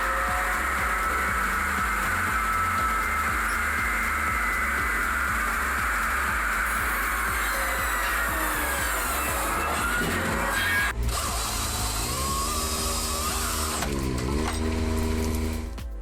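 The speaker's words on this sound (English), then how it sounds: "This machine has perfect teamwork as it cuts trees, cleans branches," Steady, loud mechanical droning and grinding from a Cranman Bison 10,000X Combi industrial firewood processor cutting and cleaning logs, with shifting whining tones toward the end and no talk.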